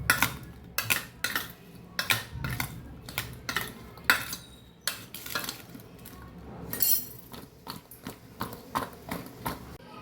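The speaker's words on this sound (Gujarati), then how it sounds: "અહીં આપણે મિક્સ કરી લઈશું" A spoon stirs cucumber raita with red chilli powder and groundnut oil in a bowl, producing rapid rhythmic scraping clinks against the dish, loud and close, in repeated bursts.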